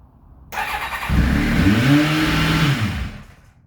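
A Kawasaki ZXR turbo motorcycle engine on a rebuilt, remapped setup bursts into life and revs, rising and falling in a loud, close mechanical roar for a couple of seconds before settling back down, with no voices.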